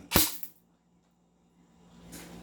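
A single sharp shot from an airsoft M4A1 rifle being chronographed at around 500 FPS cracks out up close, then fades into near silence with faint background noise creeping back in.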